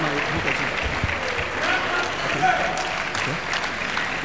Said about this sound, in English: A round of applause for Professor Jeff.